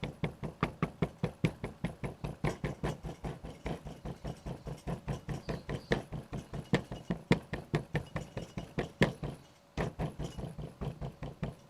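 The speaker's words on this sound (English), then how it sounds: "I'm hammering some of the edges" Steady, rapid hammering of the edges of a silver piece, dozens of evenly spaced ringing strikes close by, with a brief pause near the end before it resumes.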